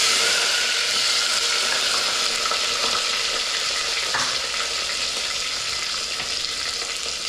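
Onions frying in oil in a home kitchen pan, a steady loud sizzle with occasional stirring scrapes, continuous and close throughout.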